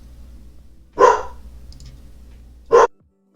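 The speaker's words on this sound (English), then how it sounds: "My dog is being quite loud right now, and for that I apologize." A dog barks twice, loud and close, with one sharp bark and then a second after a pause of about two seconds, over a low room hum.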